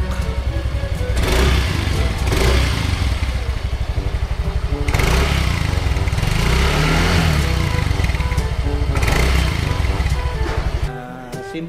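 A Yamaha Mio i 125S scooter with a stock exhaust runs close by, idling steadily with several revs blipping up before it cuts off near the end.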